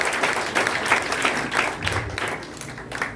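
Church congregation applauding at an evening service, a dense, steady wash of many hands clapping throughout, fairly loud and continuous with no talk over it.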